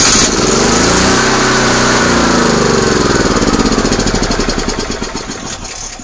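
A gas generator engine cranks and catches, then runs with a loud, steady, rapid chugging that gradually fades as the engine settles.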